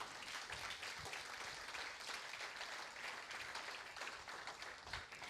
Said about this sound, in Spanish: Yo creo que eso merece un aplauso al Señor hoy.